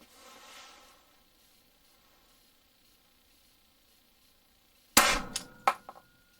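Three suppressed 9mm shots from a Centurion suppressor with a booster, firing Berries 147 grain bullets: one sharp report followed by two quicker cracks, close and loud after a long stretch of near silence.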